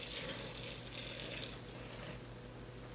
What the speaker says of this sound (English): put the boiled water into our bowl with our spinach